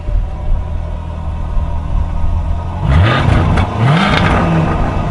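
A 2015 Jaguar F-Type exhaust with its flaps closed idles with a low rumble, then revs twice in quick succession, each rise rising sharply and falling back, heard close at the rear of the car.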